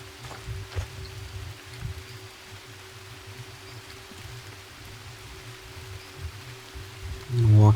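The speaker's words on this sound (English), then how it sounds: "And it started raining." Rain pouring down in the jungle survival game Green Hell, an even, moderately loud hiss over a low rumble, steady for several seconds before a brief louder burst of other sound at the end.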